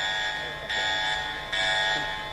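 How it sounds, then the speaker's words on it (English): A steady electronic alarm tone drones continuously, pulsing slightly in loudness every second or so, fairly loud with no voices. "Sound the alarm."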